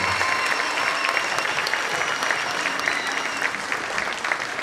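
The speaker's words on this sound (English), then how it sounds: "How about one more round of applause for all of our student performers tonight" Sustained, dense applause from a large school concert audience, steady and loud throughout with no voices standing out.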